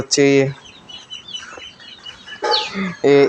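Native hens and a young rooster cluck up close in short, harmonic bursts at the start and end, with quieter scratchy activity in between and a voice likely talking nearby.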